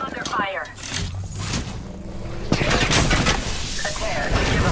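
Gunfire in Apex Legends, dense rapid shots and impacts building into a loud continuous barrage in the second half, with a voice speaking over the fighting.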